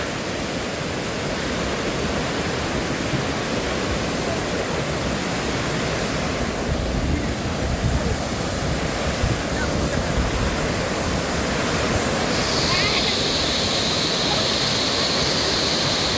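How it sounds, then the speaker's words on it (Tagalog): The waterfall at Devil's Punchbowl in New Zealand roars in a loud, steady rush of falling water, close by and unbroken for the whole stretch. "Lakas ng tubig."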